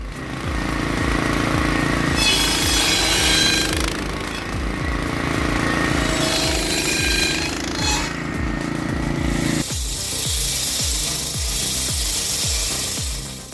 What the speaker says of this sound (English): Cutting firewood with a circular saw may seem like a simple task